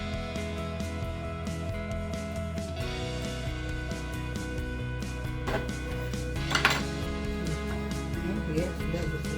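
A metal spoon scrapes the flesh and seeds out of a halved pumpkin for pumpkin compote, producing close, intermittent scraping and clinking strokes over steady background music.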